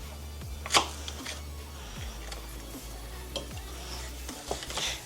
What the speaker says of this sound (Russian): Сюда добавляю теперь немного масла.